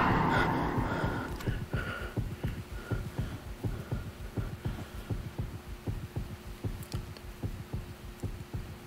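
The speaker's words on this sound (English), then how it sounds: "imagine if that was my actual heartbeat and the mic was picking it up" A steady, rhythmic heartbeat from a horror video game throbs as low, evenly spaced thumps, about two per second, close and muffled. It starts under a brief louder rush and then continues alone.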